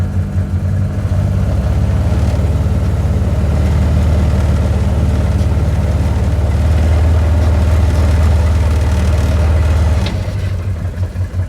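A 2013 Can-Am Commander 1000R Limited side-by-side engine held at a steady RPM, a loud, continuous low drone with some clatter that stays even for about ten seconds before easing off near the end.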